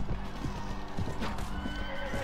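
Horses in the medieval battle game Mount & Blade: Warband with the Floris Expanded mod, whinnying over a busy din of hoofbeats and fighting, loud and close.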